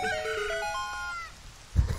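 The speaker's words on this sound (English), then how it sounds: "I love the cock-a-doodle-doo noise that went along with that." A video game's rooster crow sound effect, a single bright, tonal cock-a-doodle-doo lasting just over a second, followed by a short low thump.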